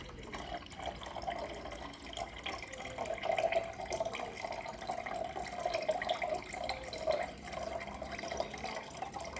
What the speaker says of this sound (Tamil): உப்பு தண்ணி கொஞ்சம் ஊற்ற போகிறேன்